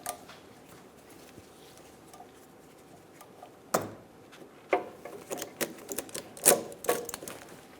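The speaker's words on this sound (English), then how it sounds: "Release the tension on the ratchet strap." Ratchet strap being released during front ball joint replacement on a 2008-2017 Buick Enclave, heard as a series of sharp mechanical clicks and snaps, irregular and close, following a quiet stretch.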